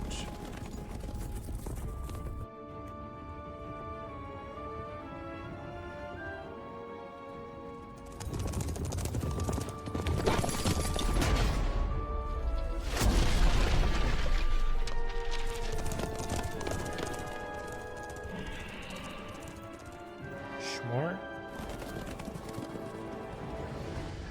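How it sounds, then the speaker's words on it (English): Hooves clip-clop rapidly amid music and voices, horses galloping with occasional whinnies in The Witcher 3 video game, the pounding rising and falling in loudness. "they got some fast horses"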